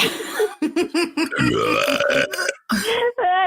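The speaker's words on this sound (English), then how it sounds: "burping is inappropriate on our podcast, and I don't appreciate it" A long, loud, croaking burp close by, broken into guttural bursts, with a bit of laughter around it.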